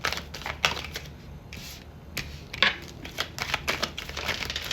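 A large deck of cards is shuffled close by, with rapid riffling bursts and flicks in uneven clusters and short pauses between them.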